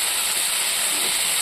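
Taro pieces dropped into hot oil with fried garlic set off a loud, unbroken, hissing sizzle that holds steady the whole time, with no talking.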